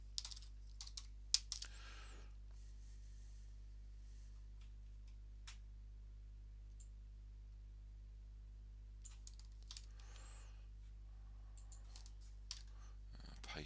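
Faint clicks of computer keyboard typing come in short bursts during coding of a web page's HTML structure, with long quiet pauses between runs of keys and a low steady hum underneath.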